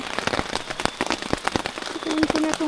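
Rain pattering steadily on surfaces at a mountain trail camp, a dense stream of close drops, with faint talking underneath.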